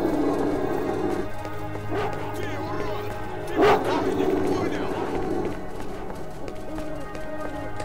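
Dogs in the STALKER: Oblivion Lost game bark and yip amid scuffling game sounds, with one sharp louder burst midway, while a person talks over the action.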